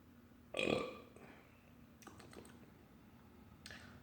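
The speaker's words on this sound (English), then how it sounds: "that's not the burp I was hoping for" A single short burp erupts near the start, loud and close, followed by faint clicking and rustling sounds in a quiet room.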